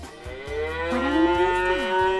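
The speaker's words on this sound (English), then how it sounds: "That's a cow. A cow." A cow gives one long, low moo that rises and bends in pitch, close and loud, heard on its own without any talking.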